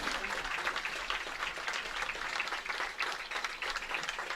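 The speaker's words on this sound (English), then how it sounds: "Standing ovation from the home crowd." A home crowd at an Indiana high school football game between Providence and Silver Creek applauds in a standing ovation, a distant, even wash of clapping that holds steady without a break.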